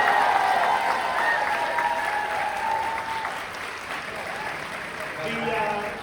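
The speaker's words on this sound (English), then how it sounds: "how about a round of applause for this amazing cast and our showrunner?" A Comic-Con panel audience applauds the cast and showrunner, a broad, sustained wash of clapping with some whoops and cheers over it, strongest at the start, easing slightly, then swelling again, with a voice faintly underneath.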